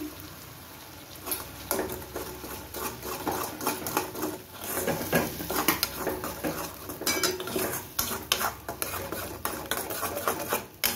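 A spoon stirs spice paste into frying masala in a pan while cooking rohu fish korma, with steady scraping and clinking of utensil against the pot throughout, close and fairly loud, no talking.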